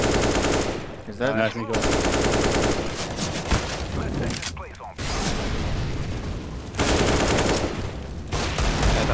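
Counter-Strike gunfire during a Major final match, with loud, dense bursts of rapid automatic shots that pause briefly and resume, as a voice talks excitedly over the shooting.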